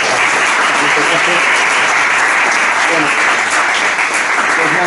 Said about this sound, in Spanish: te vamos a dar un aplauso, por favor